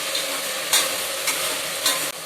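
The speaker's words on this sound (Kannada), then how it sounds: "ಉಪ್ಪು ಕರ್ಗೋವರೆಗೂ ಫ್ರೈ ಮಾಡ್ಕೊಳ್ಳೋಣ." Rajma masala frying in a pan with salt, stirred steadily: a constant close sizzle broken by three or four louder scraping stirs, no voices.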